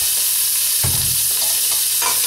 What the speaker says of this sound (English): you can hear the garlic popping